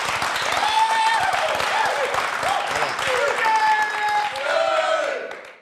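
A church audience at a gospel television programme applauds steadily, a sustained wash of clapping with a voice speaking over it throughout.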